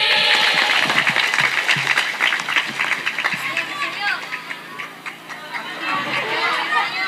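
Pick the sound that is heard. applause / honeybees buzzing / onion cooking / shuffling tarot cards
applause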